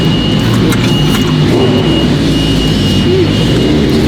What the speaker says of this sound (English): Check out that badass exhaust.